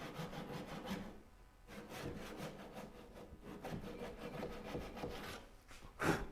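A hand saw cuts through a cast metal workpiece held in a Moxon vise, with rhythmic rasping back-and-forth strokes, close and fairly quiet, briefly pausing midway.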